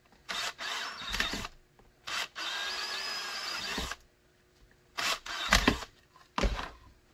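A power drill bores holes in an IWB holster for a Springfield Hellcat on a workbench: several short, close whirring bursts of drilling separated by pauses, with no talking.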